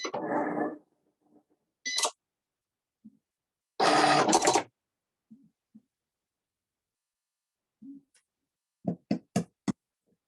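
Cricut cutting machine scoring then cutting, heard as separated bursts of whirring motor movement and sharp clicking taps spread across the stretch, with quiet gaps between and no voices.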